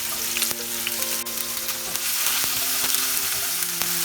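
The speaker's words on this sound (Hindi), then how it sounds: "प्याज हमें हल्का सा फ्राई करना है जब तक थोड़ा सा कलर चेंज ना हो जाए" Onions and green chillies fry with cumin seeds in hot oil, a constant crackling sizzle close by, punctuated by occasional light spatula taps and scrapes against the pan.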